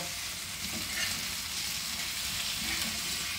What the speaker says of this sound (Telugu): ఇది మనం కొంచెము లివర్ బాగా ఇట్లా ఫ్రై చేసుకోవాలండి పెప్పర్ వేసిన తర్వాత